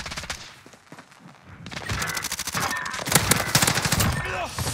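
Rapid bursts of gunfire from a first-person shooter game, dense and loud after a brief quieter stretch, with overlapping shots rattling continuously under a talking voice.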